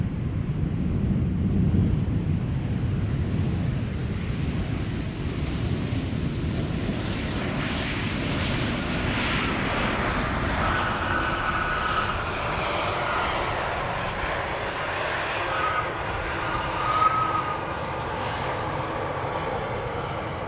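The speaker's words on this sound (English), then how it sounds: "BA flight 8489 arriving from London City, Embraer 190, 42 minutes underway." A BA Embraer 190 jet arriving from London City at Schiphol Airport roars past, a broad steady engine rumble with light wind noise that shifts and fades over about twenty seconds.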